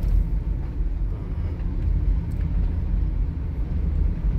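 Dense city traffic on Shaw Boulevard in Mandaluyong: a steady low rumble of car engines and road noise, continuous and moderately loud with no voices.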